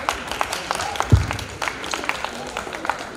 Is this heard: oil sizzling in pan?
no